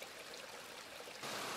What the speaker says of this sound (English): Many people are drawn to Fall Creek by the rhythm of ever-moving waters